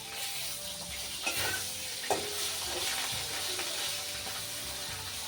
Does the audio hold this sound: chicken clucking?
no